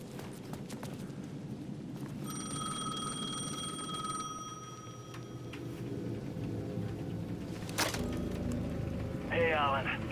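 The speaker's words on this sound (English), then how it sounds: "The payphone at the edge of the plaza was ringing again." A plaza payphone rings in Alan Wake 2, a steady electronic ring sounding for a couple of seconds over a dark ambient bed with footsteps, while a voice speaks.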